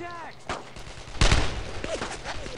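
Gunfire in the video game Brothers in Arms: Road to Hill 30, a single sharp burst midway with a few scattered shots, heard against a busy battlefield background alongside voices.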